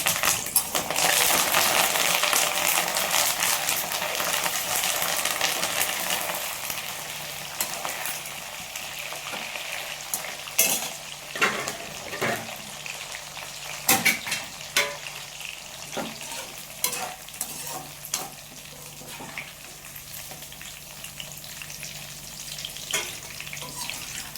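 Chicken pakoda pieces fry in hot oil with curry leaves, giving a steady loud sizzle that thins out after a few seconds into crackling and popping with sharp spatters, no talking.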